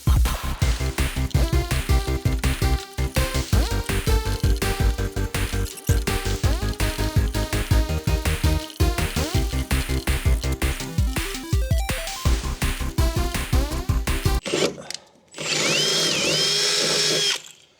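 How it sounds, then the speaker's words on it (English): A power drill bores through a metal bracket on a Ford Ranger Raptor bed box install, loud steady whirring with the motor stalling and restarting in bursts for about fourteen seconds, then a brief higher-pitched spin at the end. "Great, so I'm gonna have to drill this out too."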